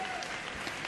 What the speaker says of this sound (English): I'm just going to keep on standing and clapping.